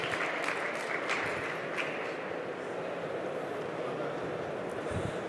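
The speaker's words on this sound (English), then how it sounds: "Could you give your applause?" Conference audience applauding a speaker being introduced at a wind power industry session, a steady dense wash of clapping from a hall full of people, fairly faint and distant throughout.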